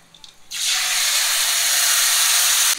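Black mustard seeds and dried red chilies hit hot oil for a Bengali tamarind dish and burst into a loud, dense, steady sizzling hiss that starts abruptly and holds for about two seconds before cutting off.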